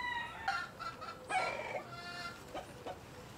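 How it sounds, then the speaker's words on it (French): Roosters and hens cluck in a short burst of a few sharp calls with a brief crow, fairly close and alone against a quiet background. "Tous les coqs et les poules sont venus autour de moi là."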